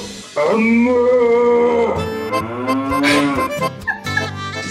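A voice imitates a cow mooing, producing a few long, low, drawn-out moos close to the microphone, loud and alone without other talk.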